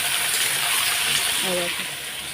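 Potatoes fry in a pan with a steady, close sizzle and crackle filling the whole stretch, a faint voice briefly rising partway through.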